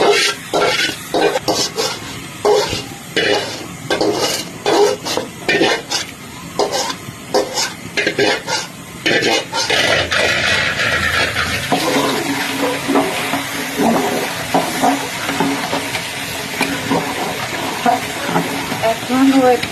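Meat frying and being stirred in a pot for biryani, with repeated scraping stirs and a steady sizzle, close by, followed by a louder continuous hiss of cooking.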